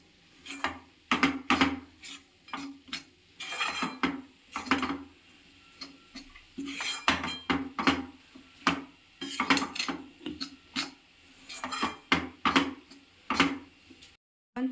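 Peanut powder is stirred in a pan over low heat, with repeated clattering scrapes of a spoon against the metal in irregular bursts, fairly close, with pauses between strokes and no speech.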